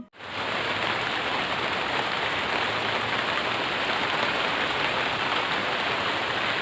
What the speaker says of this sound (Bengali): এই যে দেখো বৃষ্টি শুরু হয়ে গেছে।